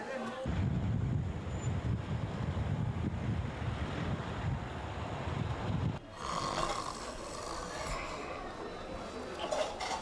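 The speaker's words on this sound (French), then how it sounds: "Ah, il y a du beau vent." Wind blows outdoors at night as a continuous low, buffeting rush that hits the microphone. It shifts to a thinner, hissier texture partway through, and faint voices are heard in the background.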